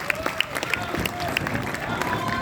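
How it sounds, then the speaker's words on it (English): A crowd at an event applauds for Shivakarthikeyan, steady dense clapping with scattered cheers and babble, loud and close throughout. "let's give a round of applause for Mr. Shivakarthikeyan"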